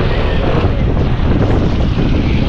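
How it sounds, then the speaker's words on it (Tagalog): Strong northeast monsoon wind roars and buffets continuously at night by the public market in Mariveles, Bataan, a loud blustery rush with no pauses. "Grabe, lakas ng hangin ah."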